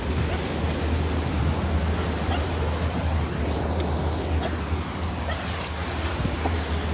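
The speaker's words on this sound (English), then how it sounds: "Just a puppy." A puppy whimpers and gives faint yips outdoors near a coastal RV stop, quiet and intermittent over a steady low rumble of wind or a running vehicle.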